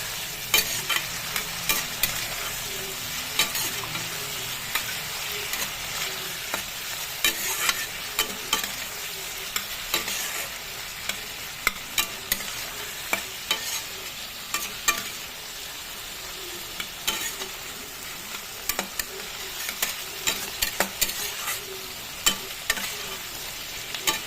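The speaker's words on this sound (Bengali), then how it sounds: "মাশরুমগুলো দিয়ে একটু ভালো করে নেড়ে নেবো" Mushrooms sizzle steadily in a hot pan for a masala mushroom dish, with frequent scraping clicks from a stirring spoon layered over a continuous bright frying hiss, close and alone without voices.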